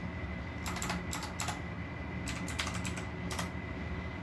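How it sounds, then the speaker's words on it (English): Quiet keystrokes tap on a computer keyboard while a fastboot command is entered, several short clusters of clicks separated by pauses over a low steady room hum. "Now type fastboot devices to check if your phone is directed in fastboot."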